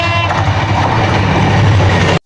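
A train at Feni railway station in Bangladesh, heard as a loud, steady low rumble with a broad roar, continuous throughout before cutting off abruptly at the end.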